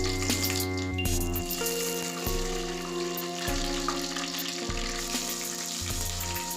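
Cinnamon stick and bay leaf frying in hot oil in a pan, a steady sizzle running throughout with a few metallic clinks and bumps, no talking.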